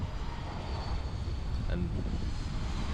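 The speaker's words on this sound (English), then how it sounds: "Beautiful sight of the plane touching in." A Cayman Airways airliner touches down on the runway, its engine roar a steady broad rumble heard from a distance with wind buffeting the microphone throughout.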